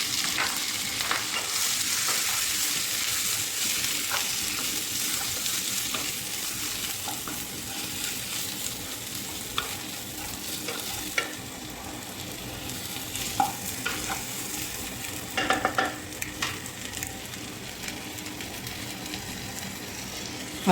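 Dried shrimp frying and being stirred in a pan, a steady close sizzle with scattered clicks and scrapes of the utensil, no voices.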